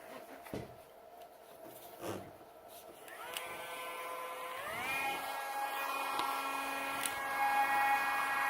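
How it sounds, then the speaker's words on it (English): A small sanding disc whirs up to a rising whine, removing putty from a sculpture, alongside a vacuum cleaner's steady drone, preceded by a few knocks, close and moderately loud. "We're going to go in there with the little sanding disc and the vacuum cleaner."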